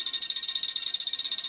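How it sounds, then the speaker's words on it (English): A metal ball bearing flutters inside the valve while an air bottle fills from a 300 bar diving cylinder, making a rapid, steady, high-pitched buzzing chatter that continues unbroken. "That's the metal ball bearing just flickering inside the valve there."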